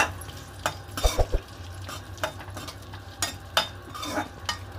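Chopped cashews, raisins and almonds frying in a pan for paneer samosa filling, a low sizzle broken by repeated spoon scrapes and light clinks against the metal.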